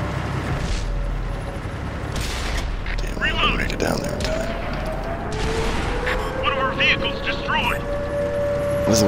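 Gunfire in a tank video game with the Mutant Six M6A2E1, Type 59 and MTLS: booming shots and mechanical clatter over engine rumble, with a person talking throughout.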